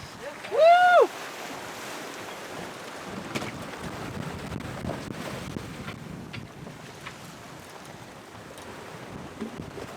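A sailboat surfs down ocean waves off the Little Bahama Bank, a long rushing wash of water and wind noise across the hull, opened by a short loud whooping shout.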